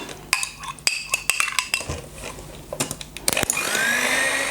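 Eggs being beaten with sugar and sour cream in a bowl for a honey cake, giving a run of sharp utensil clicks and scrapes against the dish, then a steadier whirring mix toward the end.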